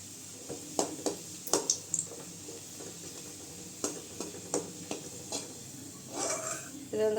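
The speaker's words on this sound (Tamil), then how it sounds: "பெருங்காயம், புளி சேர்த்துக்கலாங்க. நல்லா வறுத்துக்கலாம் ரெண்டையும்." Asafoetida and tamarind roasting in oil in a pan, with soft sizzling under repeated sharp scrapes and taps of a spoon against the metal, fairly quiet and close.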